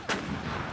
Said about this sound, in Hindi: ये तोप एक बार में 7 गोले दागती है।